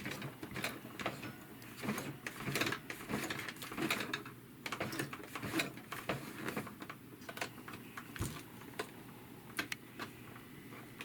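A sewing machine stitches slowly through a thick, layered washcloth, giving irregular mechanical clicks and taps with a soft whirring bed beneath, close and steady, with no talking.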